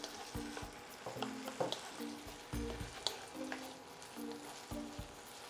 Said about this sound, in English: Sautéing with the pancetta